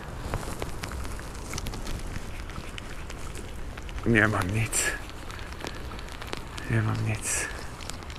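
Heavy rain pours down at a river fishing spot near Rędzin, a steady, close, broadband hiss that runs throughout, while someone speaks briefly twice over it.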